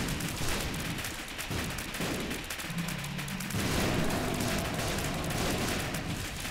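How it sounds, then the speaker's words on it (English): Explosivo tear shots striking the boss Hush in The Binding of Isaac: Afterbirth+, a steady crackle of small pops and booms that runs on without a break and gets a little louder midway. "We're just stacking up Explosivo shots on him"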